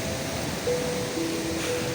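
Fast-flowing forest stream in a vast forest, a steady, dense rushing of water with no pauses, moderately loud and alone apart from a few faint tonal whistles.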